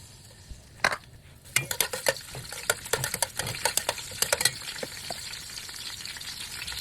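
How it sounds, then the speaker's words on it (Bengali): Chopped garlic hits hot oil on a stove with a steady crackling sizzle, overlaid with sharp spits and pops and the scrape and clink of a utensil stirring in the pan. "তো আমি এখন চুলায় তেল দিয়ে দিচ্ছি। এর মধ্যে আমি একটু রসুন কুচি দিয়ে দিচ্ছি"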